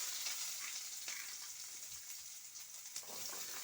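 Onions and mustard seeds frying in hot oil in a pan, a steady close-up sizzle with crackling spatter and a couple of brief stirring knocks.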